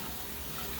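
Hot water runs into a cooking bowl crusted with hardened peanut brittle, a steady, continuous tap-like rush throughout, fairly close and alone.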